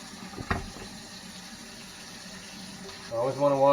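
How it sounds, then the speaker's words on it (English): Hands are washed under a running kitchen tap, a faint, steady hiss of water with a short clatter early on, and a person starts talking near the end. "So first thing I'm going to do is wash my hands."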